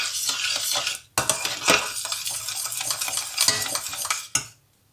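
A spoon stirs custard thickening in boiling milk in a pot, giving repeated close scraping and bubbling swishes with two brief pauses and a quiet finish.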